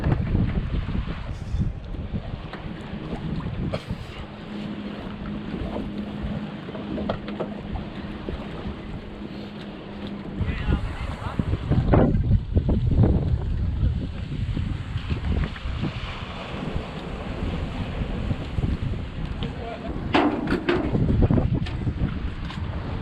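A 1982 Glasstream boat's Chrysler 100hp outboard engine drones steadily over the water, heavily buffeted by wind rushing across the microphone, with splashing and rumbling throughout.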